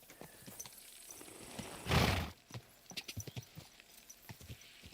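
A horse in the video game Kingdom Come Deliverance 2 clip-clops along in a run of quick hoofbeats, with a loud burst of noise near the middle, close and clear.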